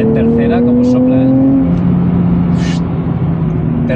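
The 2023 Nissan Z turbo engine pulls hard in third gear, a loud droning tone rising steadily before shifting, heard from inside the car with people talking over it.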